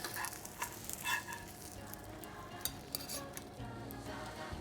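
An egg fries in a pan with a steady, fine sizzle, broken by a few light metallic clinks of a utensil against the pan, close and moderately quiet.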